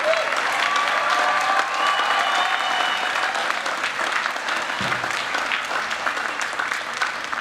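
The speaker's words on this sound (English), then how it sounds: "Let's have a round of applause for our master students." Steady, full audience applause for master's students at a Dartmouth graduate school investiture ceremony, sustained and even throughout with a faint voice briefly underneath.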